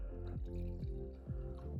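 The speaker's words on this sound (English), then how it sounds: "look, I'm remembering to pour you a pour tonight, Jason." Blended bourbon glugs from a bottle into a glass in a steady pour, with repeated gurgling pulses and a ringing, falling tone close by. No one speaks.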